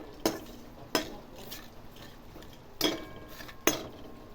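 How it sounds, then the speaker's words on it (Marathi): Whole spices including bay leaves sautéed in oil in a pan for a village-style mutton curry, with a spoon scraping and clanking against the metal in four sharp knocks over a faint background hiss. "हा खडा मसाला साधारण 2 ते 3 मिनटं चांगला व्यवस्थित तेलामध्ये परतून घ्यायचा."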